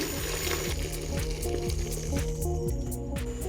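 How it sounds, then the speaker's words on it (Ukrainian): A pot of browned beef being topped up with water for soup: continuous loud sizzling and bubbling hiss with squishy, splashy liquid noise, steady and close. "я додаю до неї півтора літра води"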